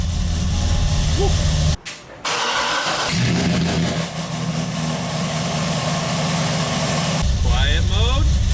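A Chevrolet Corvette engine idles with its exhaust in quiet mode, a steady low rumble broken briefly by a short dip, with some speech near the end.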